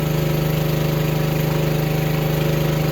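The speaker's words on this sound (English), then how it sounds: "The lift's a little bit noisy." A lift's motor hums continuously with a steady, pulsing drone and a rhythmic mechanical throb, close and unchanging.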